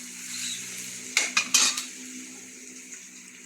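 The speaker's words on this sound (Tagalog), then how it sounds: "igigisa na yung bawang at sibuyas. Ayan, bawang muna pala yung una" Garlic is sautéed in a pot for homemade sopas, with a soft sizzle under a quick cluster of three or four close metal clinks and scrapes from the spatula against the pot.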